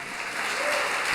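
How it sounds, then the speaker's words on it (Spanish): A church congregation claps loudly and continuously, a dense wash of applause that builds slightly and holds steady throughout. "Démosle un aplauso fuerte al Señor."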